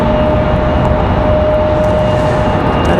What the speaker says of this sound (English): I'm hoping that that CRJ that's pushing back is the one making all the noise.